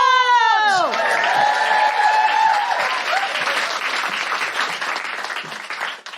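Stand-up comedy audience applauding to welcome comedian Felicity Ward to the stage, loud sustained clapping and cheers that slowly fade out.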